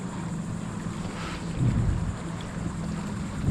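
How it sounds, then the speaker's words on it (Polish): A small motorized pontoon boat passes on open water, its low engine drone swelling briefly in the middle and then easing back under steady wind noise. "kolejna już jakaś malutka łódeczka goni w tą stronę to jest jakiś taki fajniejszy ponton"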